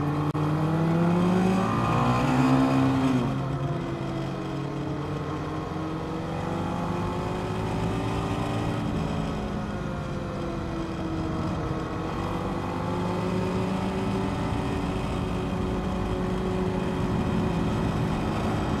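BMW G310GS motorcycle riding a race track at about 40 miles an hour: a loud, steady engine drone whose pitch climbs and dips with throttle changes, heard up close without talk.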